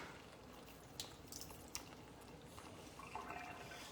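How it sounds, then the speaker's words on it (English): Amatriciana tomato sauce bubbling in a pan, soft wet pops and small bursting bubbles with a few sharper drips, quiet and close, no talking. "I'll bring it back down so you guys can see that sauce bubbling along"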